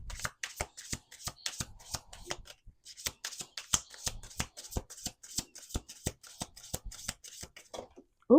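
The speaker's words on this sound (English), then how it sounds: "we're going to do 2 more shuffles" Close, crisp card shuffling: repeated quick riffles and snaps of a deck in a steady rhythm, brief pause midway, no voices.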